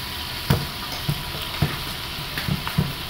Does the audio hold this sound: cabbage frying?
yes